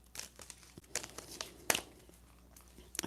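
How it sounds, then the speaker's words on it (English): Tarot cards crinkle and rustle as they are gathered up and put away, close and fairly quiet, in irregular bursts of soft crackling with a few sharper snaps. "Let me put my cards away."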